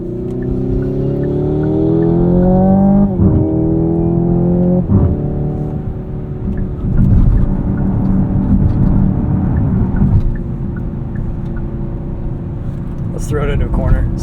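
A 2025 Hyundai Ioniq 5 N electric car accelerates hard in N mode, its synthetic engine note rising in stepped, shifting pitches with a steady, loud drone throughout, and a person talks over it.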